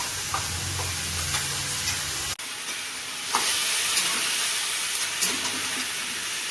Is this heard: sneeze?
no